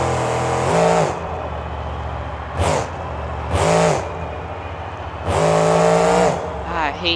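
A monster truck engine at a Monster Jam event roars loud and close, throttling up in three or four surging bursts with steady engine rumble between them.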